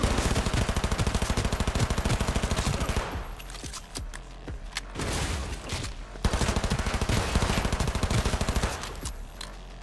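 Sustained automatic gunfire from a gun in Cyberpunk 2077, dense rapid bursts that pause briefly mid-stretch and then resume, loud and close.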